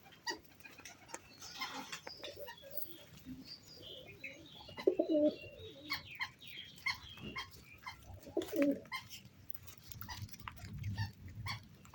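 Pigeons coo in a few brief low bursts among scattered chirps and light rustling, with a faint dog-like call somewhere in the background.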